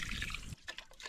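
Rice being washed in water outdoors, a brief splashing rush of water that cuts off sharply, followed by a few soft drips and trickles, close by.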